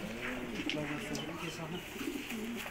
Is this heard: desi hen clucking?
no